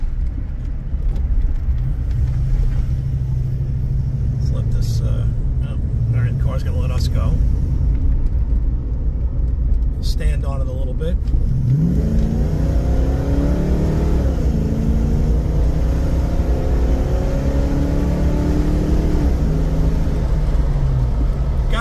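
A 1986 Ford Mustang Cobra GT hatchback with a 5.0 V8 rumbles steadily from inside the cabin on a test drive, then revs and pulls harder partway through; someone speaks over the engine early on.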